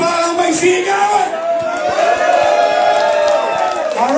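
Hip-hop concert crowd at an anniversary show, loud close shouting and whooping with scattered claps, dense and continuous throughout.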